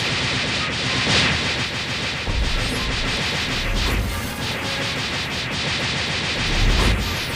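Auto-farm attacks strike NPCs in Roblox Blox Fruits, making a dense, loud clatter of rapid overlapping hit impacts that keeps going throughout.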